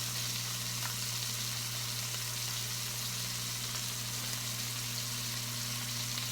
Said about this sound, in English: So it's starting to splatter.